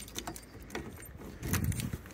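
A pair of non-remote keys for a Toyota MR2 jangles close by in a few quick bursts of metallic clinking, with a brief pause between them and a louder rattle near the end.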